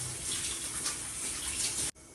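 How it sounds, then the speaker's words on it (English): A quarter cup of water poured into a cooking pan before adding jaggery, a steady close gushing splash lasting about two seconds, then cutting off. "I am adding 1/4 cup of water to the pan, and I will add the jaggery to it to melt it."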